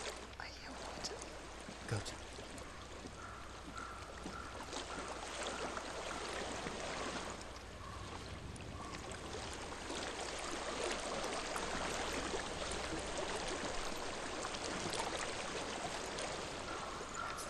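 Steady flowing water runs throughout in the video game Hellblade: Senua's Sacrifice, a continuous stream-like rush with faint splashing and low ambient hum, moderately quiet and unbroken.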